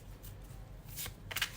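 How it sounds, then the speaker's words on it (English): A tarot card deck is shuffled quietly in a few soft, quick riffling bursts near the end, against a low room hum. "Let's start shuffling with intention"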